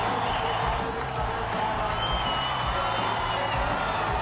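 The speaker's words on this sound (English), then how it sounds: "The crowd they are just really responding to this." A large crowd cheers at the finish of a NASCAR race at Darlington, a broad, steady roar with scattered whoops heard from a distance, without a break.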